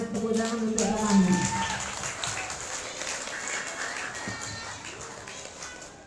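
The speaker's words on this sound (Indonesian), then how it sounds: "kemarin sekali beri semangat tepuk tangan untuk kami." Clapping from the audience at a closing ceremony for a waste-processing assistance program at an Indonesian boarding school, moderately loud at first and slowly fading, with a voice speaking over the start.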